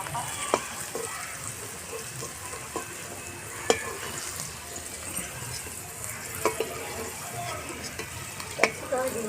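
A soft, steady frying hiss comes from carrots and peas in a pan, broken by occasional sharp scrapes and taps as they are stirred at an irregular pace.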